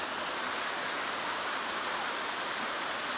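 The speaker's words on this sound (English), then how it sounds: "This is the waterfall of Namaacha." Namaacha waterfall in Mozambique, a faint, steady rush of falling water with an even broadband hiss and no voices or breaks.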